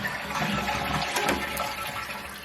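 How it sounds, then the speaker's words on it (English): A household toilet flushes and water refills the tank through the fill valve pipe, a steady close rushing and gurgling wash that tapers slightly at the end. "When you flush that toilet, what it does is water is actually coming out of that pipe in all directions."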